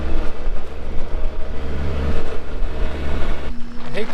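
A skid steer engine runs close by on a farm as a loud, steady rumbling drone that stays constant and shows no clear speech.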